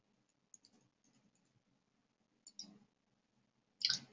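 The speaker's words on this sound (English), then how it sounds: "I can click on the advanced search link" A computer mouse clicking on a library database site: a few faint, sharp clicks spaced apart in a quiet room, with a louder click cluster at the end.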